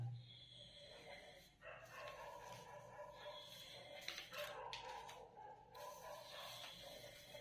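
Dogs bark somewhere in the distance, faint and intermittent, behind a steady indoor background hiss.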